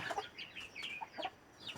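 Chickens cluck in a series of short, quick calls at moderate distance, fairly faint, with no one speaking.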